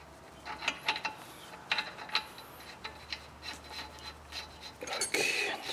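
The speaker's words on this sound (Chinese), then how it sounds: "好，现在最后一步，咱们把这个传动轴的螺丝呢，给它紧固回去。" Drive shaft bolts are tightened on a Chevrolet Cruze front wheel hub during a wheel bearing replacement, with close ratcheting clicks and metallic scraping in irregular bursts.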